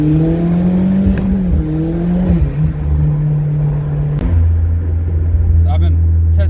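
A Hyundai Genesis 2.0 car engine fitted with an engine leash, revving through smooth gear changes and downshifts with a loud, steady drone. A voice talks over it.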